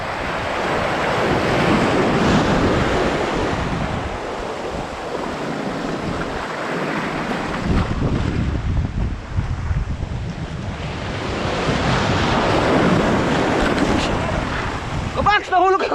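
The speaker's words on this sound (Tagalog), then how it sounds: "Ang lakas ng alon, hampas." Strong ocean waves crash and surge at sea, a loud, continuous roar of surf that swells and eases, with heavy wind buffeting the microphone.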